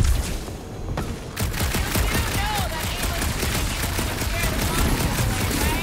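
Rapid gunfire from a weapon in the Guardians of the Galaxy video game, a dense continuous fusillade of shots blending with game effects, loud and sustained throughout.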